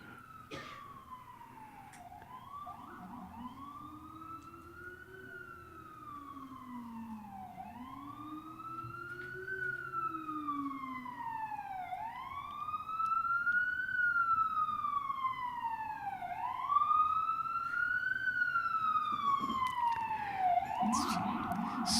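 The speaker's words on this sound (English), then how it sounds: "But this siren, it may disturb us because it's so loud." Loud wailing emergency siren sweeps up and down repeatedly as the vehicle passes outside, growing louder toward the end.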